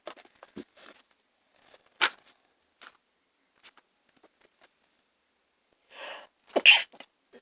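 Two sharp sneezes, one early and another near the end, with faint rustling and small clicks in a quiet room between them.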